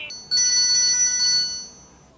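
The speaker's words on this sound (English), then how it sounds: "the worst ringtone you can have, according to the survey, is a standard ringtone" A standard cell phone ringtone sounds close up as a short bright electronic trill. It starts with a brief blip, then holds a loud warbling tone for about a second before it fades out.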